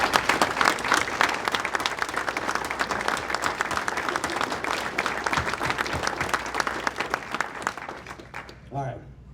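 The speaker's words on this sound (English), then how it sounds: "I just want all of us to give him a round of applause," An audience at a university athletics hall of fame ceremony applauds loudly and continuously, a thick wash of clapping that tapers off at the end as a voice begins to speak.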